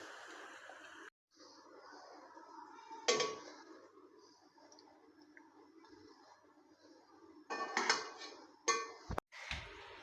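Cooked mutanjan rice served out of a pot, with metal utensils clinking and scraping against the cookware in scattered bursts, close by amid quiet stretches.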